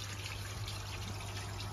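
Water draining out of a koi pond through an opened waste valve makes a steady, faint trickling rush that holds even and unbroken throughout, with a low hum beneath.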